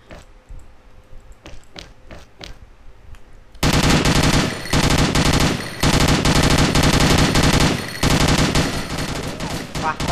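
Gunfire from the video game XS: scattered sharp shots open quietly, then loud, dense bursts of automatic fire rattle nearly nonstop with brief gaps.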